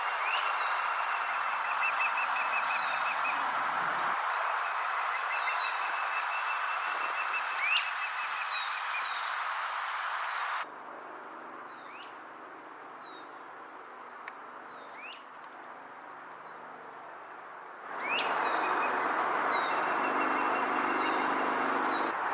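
An osprey calling repeatedly in a valley, a series of high, sharp whistled chirps over steady background noise, shifting between louder and quieter as the bird turns its head.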